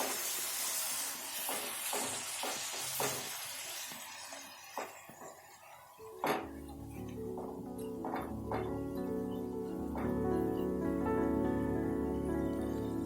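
A spiced yogurt mixture hitting hot oil in a pan and being stirred for paneer bhurji, a bright hiss and scraping clinks at first, then a softer steady sizzle with a few utensil taps, close up.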